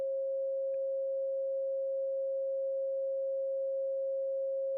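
A steady pure sine tone holds one unbroken pitch for the whole stretch, even and alone with no other sound around it.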